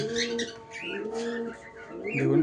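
A pigeon kept in a home loft coos close by, several soft low rolling coos in quick succession, with a faint voice in the background.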